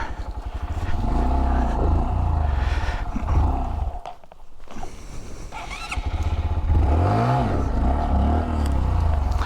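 A motorcycle rumbles and revs at low speed over rough Ozarks terrain, its engine note rising and dipping with a brief quiet gap midway and faint talk.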